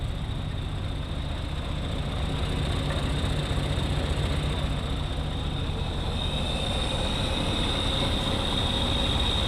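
A Jeep engine idling with a steady low rumble and a thin high whine running throughout, even and continuous without revving or speech.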